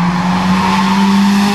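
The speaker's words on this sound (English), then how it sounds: "Gonna be races this weekend at Road Atlanta, so that's what all the noise is about." Race cars at the Road Atlanta racetrack roaring nearby, a sustained loud engine drone with steady tonal whine, heard continuously outdoors without speech.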